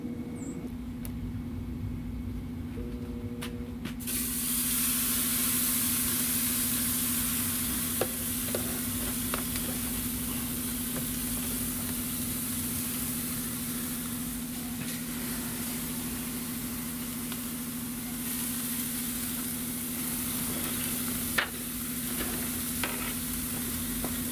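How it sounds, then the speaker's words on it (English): Skirt steaks sizzle steadily on a Monument gas grill, a continuous close frying hiss with a low hum beneath and a few faint clicks, no talking. "So we're going to go ahead and get the skirt steaks on."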